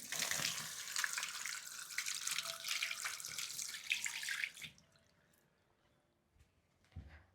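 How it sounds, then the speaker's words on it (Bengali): Water runs from a tap as hands are washed at a sink, a steady broadband splashing that stops abruptly partway through, leaving near silence with a faint thump at the end. "হাতটা ধুয়ে আসি"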